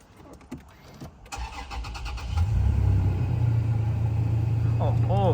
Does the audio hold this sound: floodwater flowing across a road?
no